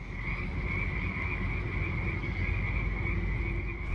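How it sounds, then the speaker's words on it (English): A chorus of frogs croaks near redwoods, a steady, dense trilling drone that stays constant and fairly close throughout. "Am I being silly about the sound of those frogs, or do you like the sound of the frogs too?"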